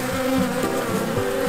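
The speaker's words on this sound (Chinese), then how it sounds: "然后现在它的旁边会有蜂会保护它，" Wild bees buzz loudly and close around a winter honey hive, a dense droning hum with wavering pitch as several insects circle, nothing else heard.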